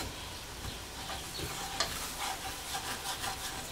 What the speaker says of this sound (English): I'm going to just mix into the flour, stirring the flour and the butter. I'm scraping the pan at the same time